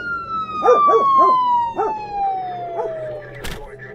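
Sirens of several police patrol cars arriving at a house wail and slowly fall in pitch, with a dog barking and howling in short bursts alongside, then a sharp knock near the end.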